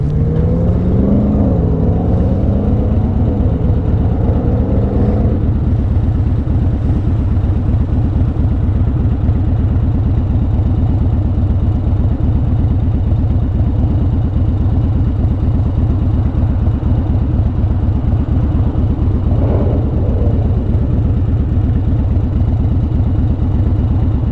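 A 2013 Harley-Davidson Dyna Wide Glide V-twin engine throbs steadily with a loud, low rumble throughout, with a couple of throttle rises near the start; no voices.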